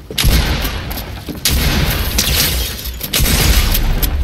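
Pump shotgun blasts in a video game fire in a rapid burst of loud, close booms, several shots a second apart, each with a sharp crack and a rumbling tail.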